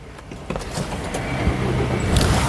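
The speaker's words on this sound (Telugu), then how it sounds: "సింగిల్ సెల్ఫ్లో కార్ స్టార్ట్ అవుతుంది" A 2017 Maruti Suzuki Ciaz ZDI diesel engine, push-button started, turns over and starts running, its rumble rising and settling into a steady idle over a couple of seconds, heard close by.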